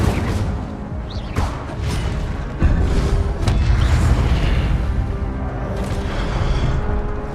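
An Incendio fire spell cast in Hogwarts Legacy, heard as loud booming, whooshing bursts of flame layered with crashing impacts and dense game noise, several surges in quick succession with no clear talk.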